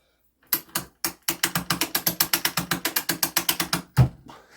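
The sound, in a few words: mainspring winder ratcheting as spring is tightened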